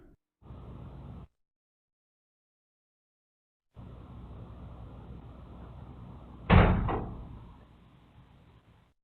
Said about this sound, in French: Là, la porte s'est fermée toute seule